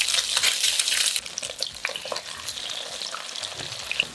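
Japanese tofu coated in cornstarch fries in hot oil with a loud, dense crackling sizzle that eases into a softer, steady bubbling with occasional pops.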